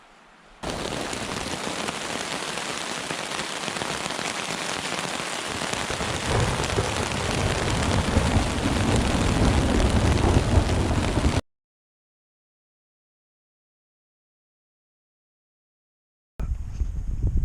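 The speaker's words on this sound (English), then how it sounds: "We had some crazy storms overnight." Heavy overnight rain pours steadily during a thunderstorm at a Boundary Waters Canoe Area campsite, with a deepening low rumble underneath. It cuts off abruptly into silence, then the downpour resumes.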